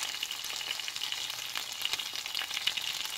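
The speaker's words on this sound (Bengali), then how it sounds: "সবগুলো দিয়ে মিডিয়াম লো হিটে এটাকে ভেজে নেব" Chicken wings frying in a pan over medium-low heat give a steady, close sizzle with bright crackling and spitting throughout, and no voices are heard.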